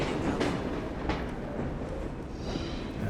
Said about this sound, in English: your base is on a moving train